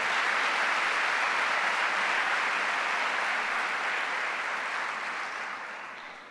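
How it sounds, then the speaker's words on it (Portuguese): Church congregation during a Sunday service applauds in a steady, even roar that holds for several seconds and then slowly tapers off, heard from a distance at low level. "Então dê um aplauso ao Senhor."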